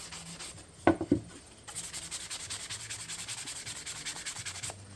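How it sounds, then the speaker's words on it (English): Sandpaper rubbed by hand over a dark spot on wood: a couple of short, loud scrapes, then a steady run of close, rhythmic rasping strokes with no one speaking. "Just hit that with a little sandpaper. It lightens it right up."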